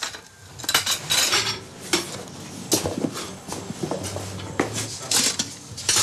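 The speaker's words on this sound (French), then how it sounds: "Il y a de casseroles." Cooking pots, pans and metal utensils clattering and scraping in a home kitchen in Congo, a busy run of close, sharp clinks and knocks with no talking.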